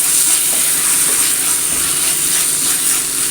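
Tuna masala for a Kerala fish biryani stirred in a hot pan, giving a steady, loud sizzle and hiss that runs without a break and no voices.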